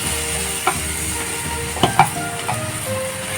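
Prawns frying in a pan with tomato give off a steady, close sizzle, with a few sharp clicks and spatters from the pan, and no one speaks over it.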